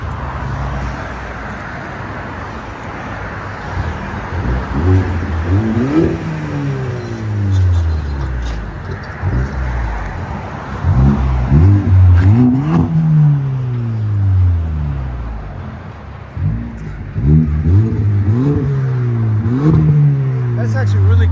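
A 2018 Audi A5 S-Line with a 2.0L turbo four-cylinder and a muffler delete revs repeatedly outside, loud rising and falling bursts with people talking over it.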